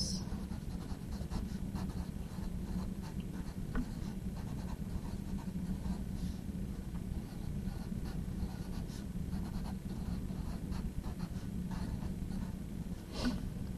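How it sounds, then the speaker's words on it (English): A colored pencil scratches across paper while graph questions are answered in a math lesson, a steady close rasp of short strokes running continuously and alone without talk. "I'm going to use a colored pencil here"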